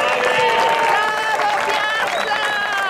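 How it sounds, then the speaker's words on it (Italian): Audience applause with cheering at an award ceremony for the 50th Italian Meteor-class sailing championship, a crowd clapping steadily under an announcer's voice talking over it. "Un applauso più vigoroso,"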